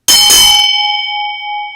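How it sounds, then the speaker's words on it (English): A Tibetan bell is struck once with a sharp metallic hit, then rings on as a steady, clear tone that slowly fades in an otherwise quiet room. "This is a Tibetan bell."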